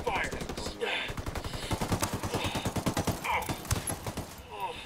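Rapid automatic gunfire in Ghost Recon Wildlands, with dense rattling bursts of shots that are fairly close and sustained and mixed with voices talking.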